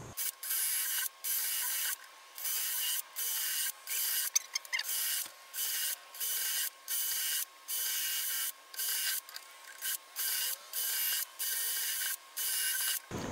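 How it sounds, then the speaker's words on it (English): Plastic worm composter bin being drilled, a series of short rasping bursts about a second apart, each a few tenths of a second long, with quiet gaps between them, fairly close and steady throughout. "Now I'm going to mark the drill holes. And then drill."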